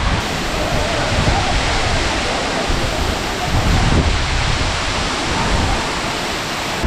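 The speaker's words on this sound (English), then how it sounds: "Actually, it's really beautiful falls." Aagaya Gangai falls in the Kolli Hills roars as a steady, loud broadband wash of falling water, constant throughout with no breaks and no one speaking.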